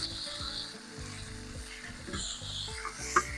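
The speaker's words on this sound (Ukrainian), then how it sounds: "Так, перемішуємо перший раз." Lamb and vegetables fry in a saj pan, a steady sizzle with scraping stir strokes and a light clink near the end, close and without talk.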